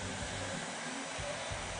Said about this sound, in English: We can demonstrate this simply with a hairdryer and a ping pong ball.